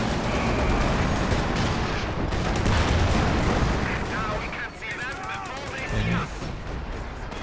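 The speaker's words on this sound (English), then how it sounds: "H.E. Sherman rolling down. So good for Thoton. Sherman shots not really landing." Sherman tank cannon fire from the video game Company of Heroes 2, heard as dense, continuous battle noise with booming shots and crackling gunfire throughout, loud and busy with commentary over it.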